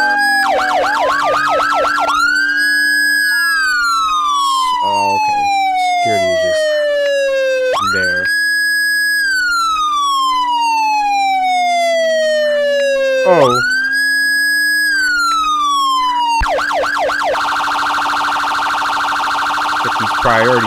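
Police and ambulance sirens in the Roblox game Mano County, with wailing and yelping tones that rise and fall continuously, loud and close, cycling through several patterns with no talk over them.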